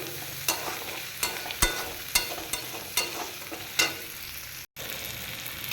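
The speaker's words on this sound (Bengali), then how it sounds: "টমেটম দেওয়া হয়েছে এবার এটাকে ভালো করে নাড়ছি" Tomato frying in a pan for a bottle gourd and shrimp curry, stirred with a utensil: steady sizzling broken by repeated sharp scraping knocks against the pan, with a very brief gap near the end.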